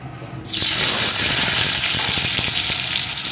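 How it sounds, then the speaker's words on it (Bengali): Cut potatoes drop into hot oil with tempered spices in a pan and burst into a loud, close, continuous sizzle that holds steady to the end. "আলুটাকে একটু ভেজে নেব।"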